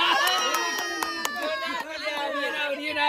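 A lively crowd of adults and children cheering and shouting at a bottle-flip party game, with dense overlapping excited voices throughout and little distinct clapping.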